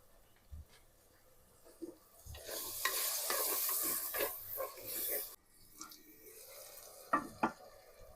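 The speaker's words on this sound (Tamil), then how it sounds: "நல்லா சாஃப்டாக வதங்கிச்சு ஃப்ரெண்ட்ஸ்" Onions sautéing in ghee in a pot for chicken biryani, a bright frying sizzle swelling for a few seconds amid stirring scrapes, then quieter clinks and taps.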